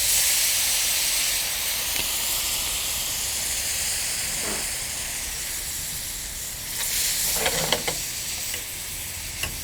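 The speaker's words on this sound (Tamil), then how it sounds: "கொஞ்சமாக இதில் தண்ணி ஊற்றி லைட்டாக கொதிக்க விடுங்க." Egg and onion vadagam kulambu, a Tamil gravy, with water added and left to simmer in the pan; a steady, fairly loud hiss and bubbling runs throughout, with a few faint clinks toward the end.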